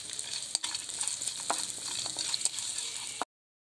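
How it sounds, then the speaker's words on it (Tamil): Cashews and other ingredients roasting in a pan for Tamil rava pongal, a steady close sizzle with intermittent scraping stir strokes, no talk. "இப்போ இதை எல்லாத்தையுமே நல்லா வறுத்துக்கலாம்."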